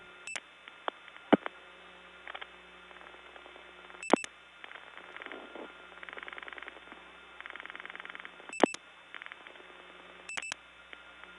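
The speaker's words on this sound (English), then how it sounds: "Now some dialing crosstalk. I like that sound it makes." Dialing crosstalk on a 1979 step-by-step tandem telephone line, faint tones and clicks bleeding through a quiet line, punctuated by several sharp loud pulse-repeater clicks at irregular intervals.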